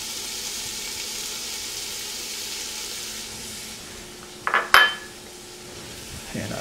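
Vegetables for a bouillabaisse sauté in a hot pan with a soft steady sizzle, broken by a few close clinks and scrapes of utensil against pan.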